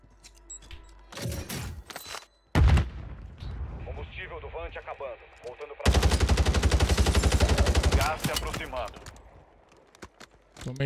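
Bursts of rapid, loud gunfire crackle in sharp volleys, with a long sustained barrage in the middle, mixed with quieter video game effects.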